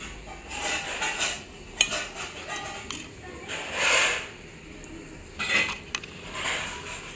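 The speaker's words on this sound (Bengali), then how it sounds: "এই দই আমি এখানে প্রথমে মিক্সিং জারে দিয়ে দেবো।" Classic yogurt being spooned into a mixer jar, with several soft clinks and scrapes of a spoon against the jar in irregular bursts, close and fairly quiet.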